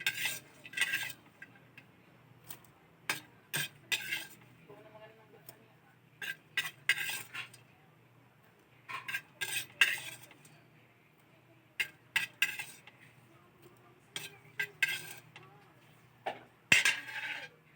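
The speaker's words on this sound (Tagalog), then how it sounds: "Tapos na maluto na yung dilis, ating ahonin na yun." A metal utensil scrapes and clinks in a pan while fried anchovies (dilis) are scooped into a bowl. Short, irregular bursts of clatter come close-up, with quiet gaps and a faint sizzle between them.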